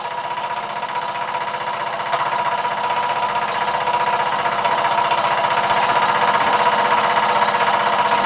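A large scratch-built oscillating model steam engine running fast, a rapid, even mechanical chuffing and clatter that is loud, close and continuous, with no talking.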